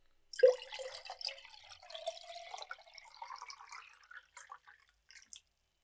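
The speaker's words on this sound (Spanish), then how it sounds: "Luego sacas agua del bidón." Water is poured from a drum into a container, a close, splashing pour that settles into gurgling trickles and drips before stopping.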